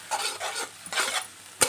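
Street-style Telangana egg fried rice fries and gets tossed over high flame in a pan, with a steady sizzle and repeated scraping, stirring strokes and a sharp clack of the utensil at the end.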